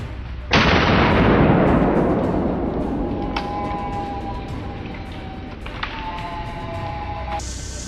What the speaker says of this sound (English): Without thinking, I raised my gun, took a quick aim, and pulled the trigger.